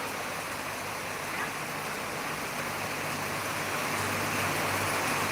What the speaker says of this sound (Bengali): দেখো কত বৃষ্টি হচ্ছে